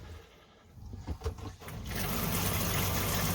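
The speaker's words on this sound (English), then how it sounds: "hot water on, make sure that's turned down and not coming out." Hot water starts running into an off-grid powered washing machine in an overlanding setup. A couple of soft clunks come first, then a steady, close rush of flowing water fills the rest.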